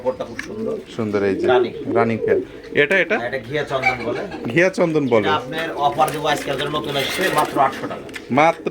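Fancy yellow Bombay pigeons coo repeatedly in a farm pigeon loft, rolling throaty calls close by, heard under someone talking continuously.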